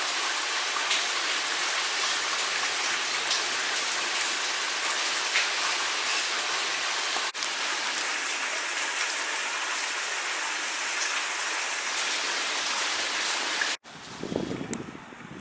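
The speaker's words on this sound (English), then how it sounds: "Rain's let up a bit." Steady rain from Hurricane Hanna falls in Houston, Texas, in a dense, continuous hiss, close and even throughout, with a brief shift near the end.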